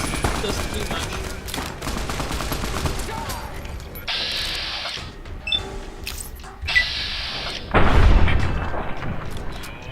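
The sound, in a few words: rifle gunfire in video game Fallout: New Vegas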